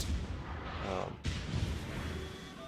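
Main battery guns of the Gneisenau battleship fire in World of Warships, a single deep booming blast with a rumbling tail, heard faintly under a low ambient game background.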